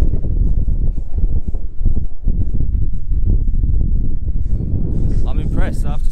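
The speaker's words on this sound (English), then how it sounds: "Wow, it's proper windy up here" Heavy wind buffets the microphone in a steady low rumble on a rooftop bar in Bangkok, with a voice talking over it throughout.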